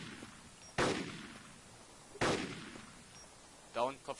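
Two sharp gunshots from the video game DayZ ring out alone, each a sudden loud crack with a short decaying tail about a second and a half apart, followed by a brief voiced sound near the end.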